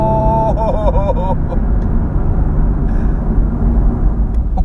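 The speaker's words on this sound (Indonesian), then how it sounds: "suaranya benar-benar khas AMG ada lagi di mobil ini" The engine of a 2016 Mercedes-AMG GT S gives a steady, deep rumble from inside the car, with a brief tonal whine early on and someone speaking over it.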